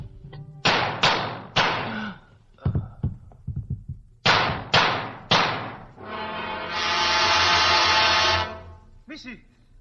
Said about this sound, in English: I hear a gunfire.